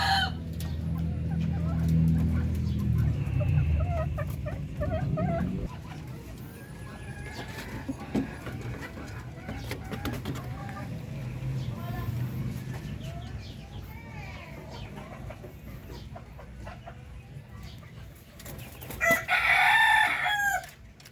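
Darag native chickens cluck around a farmyard while a rooster crows loudly near the end; a low rumble fills the first few seconds, and a quiet voice speaks underneath in places.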